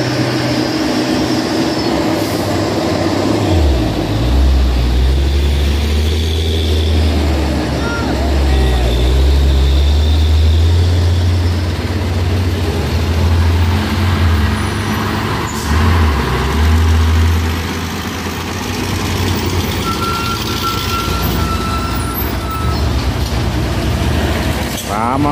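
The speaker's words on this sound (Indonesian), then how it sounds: "Ramai truk menanjak dan menurun di hari ini di Bukit Kodok ya teman-teman." Heavy trucks climb and descend the hill road at Bukit Kodok. A deep, steady engine drone swells and fades as vehicles pass, with voices talking over the traffic.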